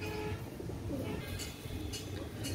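Salara teddy pigeons coo softly in a low, rumbling murmur, faint and continuous, with light rustling around them.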